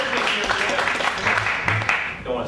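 Audience applause at a panel discussion on infotainment politics, a brief spatter of clapping mixed with a speaker's voice over it.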